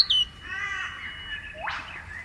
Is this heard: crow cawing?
yes